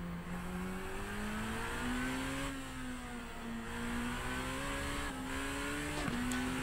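A Super Formula open-wheel race car in Assetto Corsa, driven at Sugo, holds a loud high-pitched engine drone that climbs and dips through gear shifts at a steady close level.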